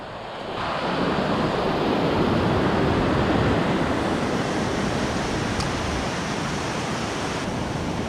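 Surf breaking on an ocean beach, a steady broad roar of waves and wash that swells in after a quiet start and holds loud and constant, with some wind buffeting the microphone and no talking.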